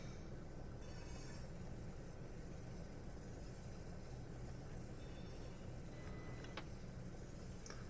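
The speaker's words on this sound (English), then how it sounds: "I'm just going to stop the train right here" Low, steady rumble of a Chatham Main Line train from Dover Priory to London Victoria in a train simulator, rolling slowly toward a stop, with faint squeals and brief clicks over constant noise.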